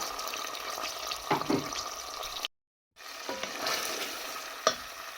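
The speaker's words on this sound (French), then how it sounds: "Je rajoute un peu de jus du rognon parce que j'ai très bien assaisonné le rognon" Kidney juice poured into spaghetti sauce simmering in a pan, giving a steady close sizzle and bubbling with stirring scrapes, cut by a brief silent gap midway.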